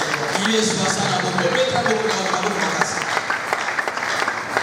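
A church congregation cheers and applauds for the king at a prayer service, a dense sustained wash of clapping and crowd voices, loud and close, with talking mixed through the applause.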